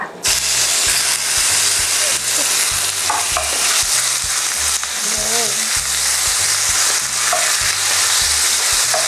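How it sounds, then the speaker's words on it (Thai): Steady, loud sizzling of chicken stir-frying in hot oil, with repeated scraping and clanking of a utensil against the pan throughout. "ตั้งไฟแล้วใส่น้ำมันให้ร้อน นี้เราก็ใส่ไก่ลงไปผัดก่อนเลยค่ะ"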